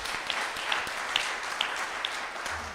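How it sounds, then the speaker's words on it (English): Brief burst of audience clapping for students at an academic conference, a moderate, fairly distant patter of many hands with a few sharper individual claps standing out, no voices over it. "Let's give them a hearty clap."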